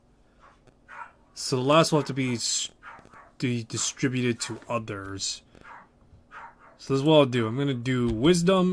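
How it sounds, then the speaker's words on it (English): A pet dog barks faintly in the background behind a person who talks steadily and close up throughout. "That's my dog in the back if you can't hear."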